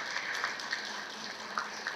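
Audience applause at a Buddhist talk session, a steady wash of clapping from a crowd, moderately loud and continuous throughout with no break.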